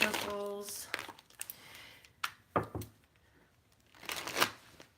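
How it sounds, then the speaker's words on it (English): Tarot cards shuffled by hand at close range, a few crisp riffling bursts and soft slaps spread over several seconds, with a brief hum of voice at the start. "And 3 more shuffles."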